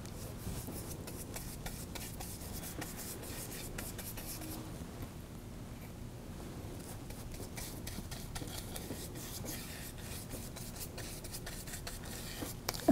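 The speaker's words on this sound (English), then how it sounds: "I'm just applying it to the surface, scrubbing it into all the nooks and crannies that we just created." A plain chip brush works paint into a textured surface with a faint, steady, scratchy rubbing that continues through the whole stretch in quiet, close strokes, with no talking.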